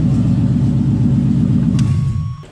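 A Chevrolet Camaro with an LS engine runs in drive with a steady low rumble, and a brief tonal shift near the end marks the automatic transmission changing gear before the sound drops away.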